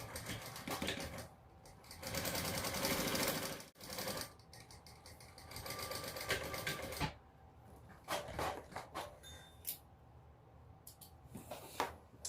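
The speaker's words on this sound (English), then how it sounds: "So we'll just sew an 1/8 of an inch seam allowance down the folded edge there." A domestic sewing machine stitches an eighth-inch seam down the folded edge of a bum bag strap, running in several bursts of steady mechanical whirring, close and moderately loud, with short pauses and handling clicks between runs.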